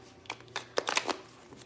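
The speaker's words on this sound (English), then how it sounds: "I'm just shuffling the cards" A few quick papery shuffles of tarot cards, close and soft, bunched into a brief flurry.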